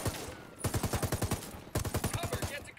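Rapid automatic bursts in the Ghost Recon beta video game, two loud strings of evenly spaced shots separated by a brief pause, close and punchy.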